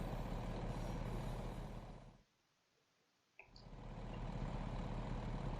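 Western Star 49X truck in American Truck Simulator: a steady engine drone cuts out into near silence, then a sharp hiss of the air brake releasing as the engine rumble swells back in.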